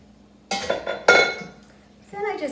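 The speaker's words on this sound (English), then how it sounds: "Then I just mix it good in the pan." Sloppy joe filling mixed in a pan, with a few clinking scrapes of a utensil against metal in close bursts and a voice talking between them.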